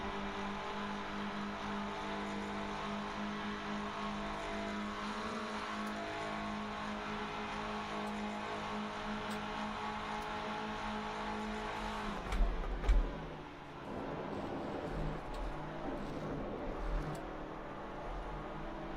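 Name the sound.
car engine revving in a racing video game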